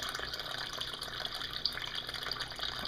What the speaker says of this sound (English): But see that water level start rising up here.